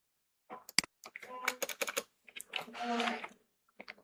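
Keys clatter on a computer keyboard in short bursts with pauses between them. The typing is close and fairly quiet, and there is no talking.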